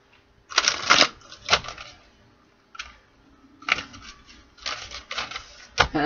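Tarot cards being shuffled by hand in several bursts of crisp riffling and flicking, close and distinct, separated by short pauses.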